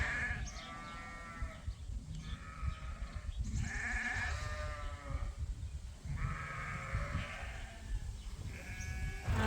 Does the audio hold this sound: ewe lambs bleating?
yes